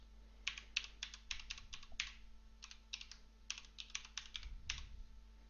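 A password is typed on a computer keyboard, quiet close-up keystrokes tapping in quick irregular bursts with short pauses, and no one speaking.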